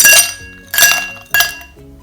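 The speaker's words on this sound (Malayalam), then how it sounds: "ആദ്യം നമുക്കിതിലേക്ക് കുറച്ച് ഐസ് ക്യൂബ്സ് ചേർക്കാം" Three bright clinks as ice cubes drop one after another into a glass, each ringing briefly before fading.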